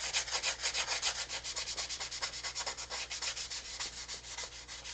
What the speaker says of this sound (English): This is a 3M 320 bought off Amazon. It's the greatest sandpaper I've ever used.